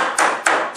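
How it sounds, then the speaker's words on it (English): Three sharp, ringing taps of a small hammer straightening a metal edge on a display Viking shield, at an even pace, close and fairly loud, each fading quickly before the next. "use a small hammer with an even smaller hammer"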